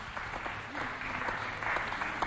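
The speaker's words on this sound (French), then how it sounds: "On applaudit ce moment encore." Applause breaks out at an award ceremony, a steady patter of clapping from a modest crowd lasting a couple of seconds.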